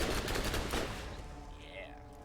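A dense, loud burst of rapid SMG fire in Borderlands that fades out after about a second, leaving quieter game ambience and a faint electronic tone.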